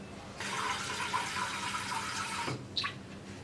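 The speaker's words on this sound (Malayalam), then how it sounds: "ഇതിലേക്ക് നമുക്ക് ആവശ്യത്തിന് വെള്ളം ചേർക്കാം" Water is poured into a pot of ridge gourd and tomato curry as a steady splashing stream for about two seconds, ending with a short slosh and a small clink.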